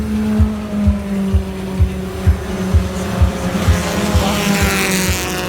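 Race cars, including a Ford Fiesta and a Chevrolet Corsa, run on a circuit with a loud, steady engine drone and rhythmic low pulses, as though heard from trackside.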